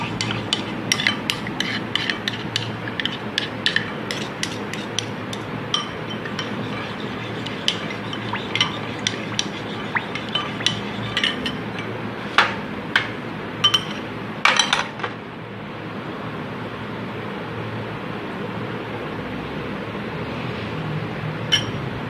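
Wafer dessert ingredients being mixed in a bowl, with a spoon scraping and clinking in quick repeated strokes that run steadily for a long stretch before easing to a quieter background.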